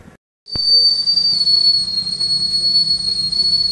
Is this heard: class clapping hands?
no